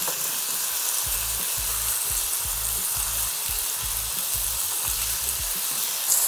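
Ground meat for sloppy joes sizzles and browns in a hot pan, a steady close frying hiss with a regular low pulsing scrape of stirring underneath, no talking.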